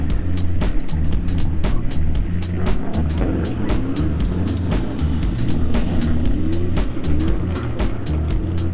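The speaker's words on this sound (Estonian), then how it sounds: "Vaikne pill Tesla." A quiet Tesla electric car on the move, with a continuous low rumble of road and tyre noise and a faint whirring hum. Scattered ticks and knocks sound over it, and no engine note is heard.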